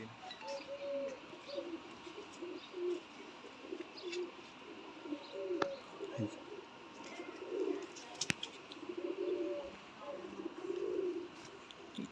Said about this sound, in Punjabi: ਸਭ ਤੋਂ ਪਹਿਲਾਂ ਤੁਹਾਨੂੰ ਆਪਣੀ ਕਬੂਤਰ ਦਾ ਸ਼ੌਂਕ ਕਰਾਉਣ ਲੱਗੇ ਗੋਪੀ ਵੀਰ ਜੀ